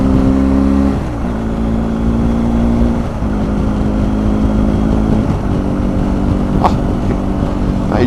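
A BMW R1250 GS Adventure TE Triple Black Edition on the road, its engine droning loud and steady with brief dips as the quick shifter clicks through gear changes, under heavy wind noise.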